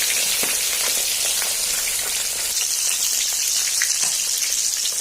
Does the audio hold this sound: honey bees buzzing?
no